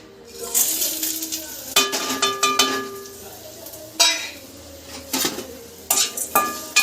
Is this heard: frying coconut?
yes